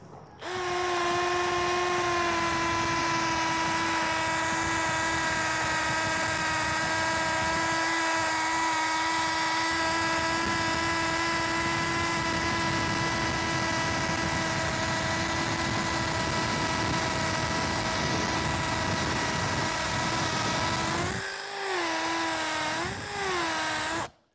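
A common Bosch 8mm drill bit bores into hard concrete, giving a loud, steady, high-pitched motor whine that holds for about twenty seconds before briefly dipping and cutting off.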